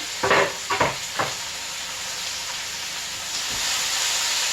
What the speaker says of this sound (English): we're basically going to saute the vegetables